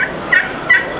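A man imitates a wild turkey gobble with his voice, two short, loud, rattling gobbles close by with a quiet pause between them.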